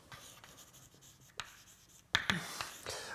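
Chalk or marker strokes on a board during a lecture, a series of scratchy taps and short squeaky strokes that sharpen toward the end, close and alone with no talk.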